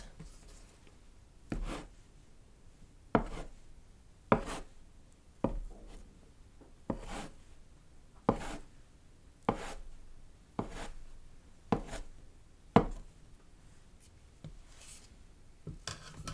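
Gnocchi dough being cut into pieces with a knife on a board, a steady series of about a dozen crisp, close knocks spaced roughly a second apart, with soft scraping between them.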